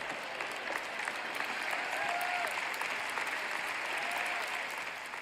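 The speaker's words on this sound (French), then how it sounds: "Ça ne mérite pas des applaudissements, n'est-ce pas?" Audience applause at a French-language Christian teaching event, a steady wash of clapping from a large crowd that holds level throughout before easing slightly at the end.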